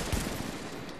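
Brief burst of gunfire in The Division's Dark Zone, a short punchy crack near the start followed by rattling decay, fairly distant and muffled.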